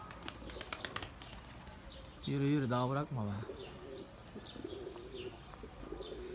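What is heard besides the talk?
white pigeons cooing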